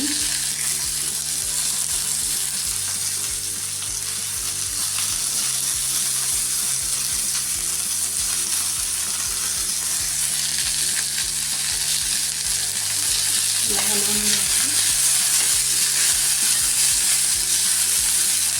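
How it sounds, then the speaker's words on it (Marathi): Green peas roasting in an oily pan, with a continuous close sizzle and the rhythmic scrape of a spatula stirring them throughout, steady and fairly loud. "मस्त असे वाटाणे भाजून घ्यायचे मऊ होईपर्यंत."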